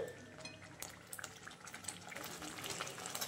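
A paneer masala with cashews and magaj seeds simmers in a pan, a soft continuous bubbling and sizzling with small popping spits, quiet and close with no one speaking.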